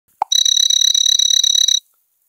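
Star Trek–style Android launcher swipe effect: a short blip followed by a bright, warbling electronic tone pulsing rapidly for about a second and a half, loud and isolated.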